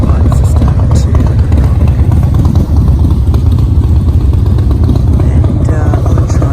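Motorcycles rumble loud and steady at a group ride meeting place, with Triumphs, Harleys and cafe racers gathered. The engines drone on without a break, and voices can be heard faintly underneath.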